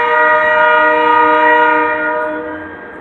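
A freight train on the Portland to Rumford line in Maine sounds its horn in one long, loud, steady blast close by, fading slightly toward the end.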